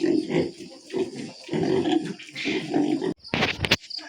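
Pigs in a backyard pen grunt and squeal in close, loud, repeated bursts, ending with a short scraping clatter.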